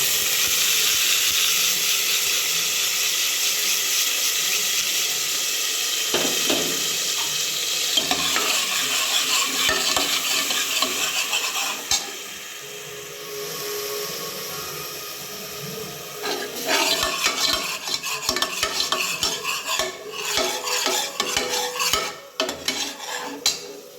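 Onion, coriander and ginger fry in a couple of spoons of oil, a steady close sizzle broken by scraping stirs and clinks of a spoon against the pan, with a busier, louder stretch of stirring near the end.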